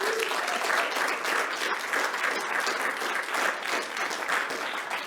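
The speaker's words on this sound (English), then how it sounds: "A round of applause for David Edney." Steady audience applause fills a theater evening event, a dense, continuous wash of clapping at close range that holds evenly throughout without any talking over it.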